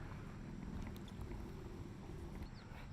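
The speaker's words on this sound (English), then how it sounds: "We're on this canoe right now." A canoe drifts on a river with a soft, steady wash of water and wind. The sound is low and quiet, with a few faint splashes and drips.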